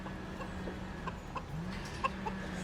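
A bunch of chickens cluck softly in short, scattered calls over a steady low background hum, with no one talking.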